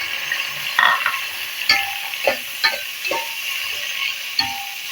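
Onions dropped into hot ghee and stirred, a steady sizzle and hiss with irregular scraping taps of a spoon against the pan, close and clear with no talk.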